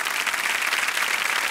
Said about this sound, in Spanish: Caluroso aplauso para este musical del invierno